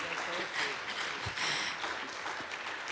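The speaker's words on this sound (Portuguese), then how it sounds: "Dê uma salva de palmas a Jesus por isso." A church congregation applauds, a continuous, fairly even spread of clapping over the whole moment with some voices underneath.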